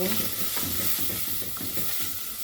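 Pork bones are sautéed in a pan, with a continuous hiss of frying under rhythmic stirring scrapes that repeat roughly every half second, close and fairly loud.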